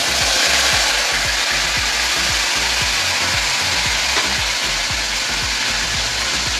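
Tomato paste frying in a pan with green chilli, ginger, bay leaf and tempering spices, a steady broad sizzle holding evenly throughout with no voices.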